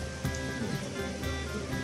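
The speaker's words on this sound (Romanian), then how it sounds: "a început să plouă binișor." Steady rain falling around a sheltered spot in a city, a soft continuous hiss of drops with no clear breaks, fairly even and close throughout.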